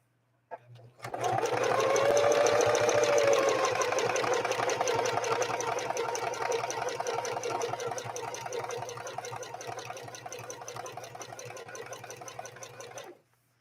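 A Singer 4411 heavy-duty sewing machine runs continuously for over ten seconds, a loud, steady rapid mechanical whir and clatter of stitching close up, starting after a brief hesitation and stopping abruptly.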